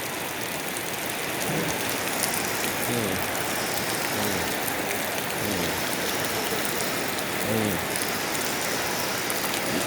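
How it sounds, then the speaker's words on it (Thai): Steady rain falls throughout, a dense even hiss with soft patters, and faint low voices murmur in the background now and then. "ฝนตกฝนตก"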